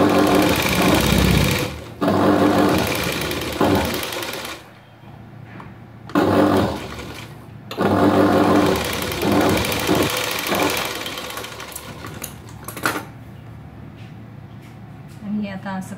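A sewing machine top-stitches a princess cut blouse, running loud in several long bursts with short pauses between them as a voice talks over parts of it.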